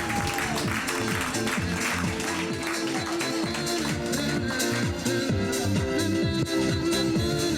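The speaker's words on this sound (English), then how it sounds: "could we have a round of applause for Royal Berkshire?" A round of applause for the Royal Berkshire team at a summer tournament, moderately loud clapping layered over steady rhythmic music for several seconds.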